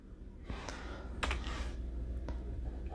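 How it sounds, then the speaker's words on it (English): A few sharp clicks from pressing keys on a computer keyboard, spaced apart over a low, steady background hum. "I'm pressing F5."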